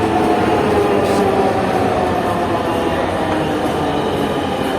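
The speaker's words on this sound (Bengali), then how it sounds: "স্বপ্নের মেট্রো রেলে আমরা আজকে উঠতেছি" A metro rail train roars in a steady, loud rumble, carrying a constant broadband drone from start to finish with no clear talk above it.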